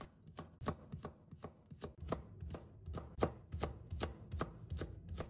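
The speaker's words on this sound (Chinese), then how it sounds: "再准备1根去皮的胡萝卜，把它切薄片。 再给它切细丝。" A knife chops a peeled carrot into thin strips on a cutting board, with about a dozen quick, evenly spaced cuts, each landing as a crisp, close knock.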